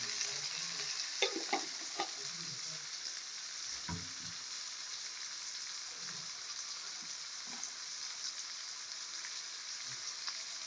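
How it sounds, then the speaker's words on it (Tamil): Steady crackling sizzle of fennel seeds frying in hot oil, with a few louder pops and stirring scrapes near the start; no talking. "பெருஞ்சீரகம் தாளிக்கிறதுக்கு தேவையானது பெருஞ்சீரகம் போடுறேன்."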